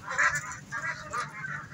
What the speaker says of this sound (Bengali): এই যে বেলজিয়াম হাঁস